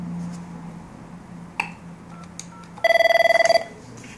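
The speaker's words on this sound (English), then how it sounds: "First, let me get a call on my phone." An Avaya IP Office desk phone rings for an incoming call: a single burst of rapid electronic trilling, loud and close, follows a quiet room with one soft click, and no one speaks.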